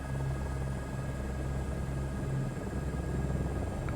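An H125 helicopter in Microsoft Flight Simulator 2024 gives a steady, low, humming rotor and engine drone with a tonal whine, continuous and fairly loud, with no talking.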